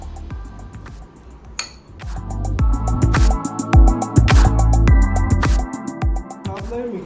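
Yogurt-marinated ingredients stirred in a bowl, with a utensil repeatedly clinking and tapping against the sides in a quick irregular rhythm, close and bright, while a voice or other tonal sound runs underneath.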